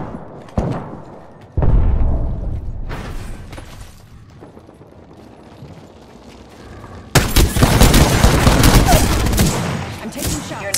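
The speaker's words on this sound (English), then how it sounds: "I'm taking shots." Bursts of automatic gunfire in the battle royale shooter Apex Legends, loud and close, with sharp shots early, then a dense continuous volley of fire filling the final seconds amid game effects.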